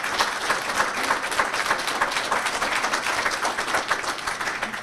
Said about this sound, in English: let's go ahead and give her another round of applause here